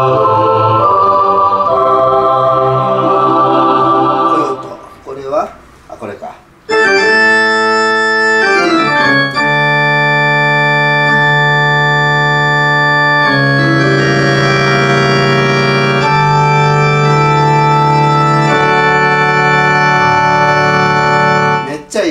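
Yamaha Clavinova CLP-711 digital piano played with its chorus voice, sustained choir-like chords ringing loudly and steadily, with a brief break partway through before the chords resume and hold.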